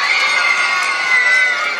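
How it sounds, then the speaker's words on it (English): A crowd of children and adults cheers and shouts loudly and steadily at a birthday party held at a wildlife park. "give him a cheer"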